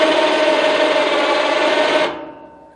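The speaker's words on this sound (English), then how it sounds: "this box is actually a remote switch for the winch, to take and run the winch up and down." An electric winch motor on a homemade dump trailer runs loud and steady with a high whine, driven from a small remote switch, then cuts off abruptly near the end, leaving a fading tail.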